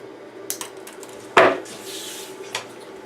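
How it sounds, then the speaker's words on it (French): Pliers snip through 3D printer filament beside a Monoprice Select Mini V2 printer: one sharp, close snap, with a few faint ticks and clicks of handling before and after. "Je vais tout simplement venir prendre des pinces. On va venir couper cette section-là."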